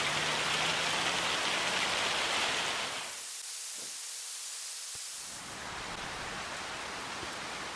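Rain falling in the farming video game Farming Simulator 25, a steady hissing downpour that cuts out abruptly for a couple of seconds with faint clicks, then returns as softer, duller rain.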